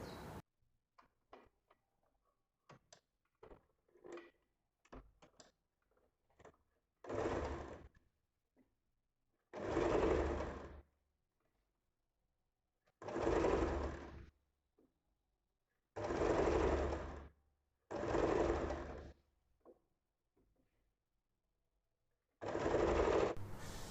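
A sewing machine stitches the back neck facing of a square-neck nightie in about six separate bursts of close mechanical whirring, with quiet clicks and handling noises between them.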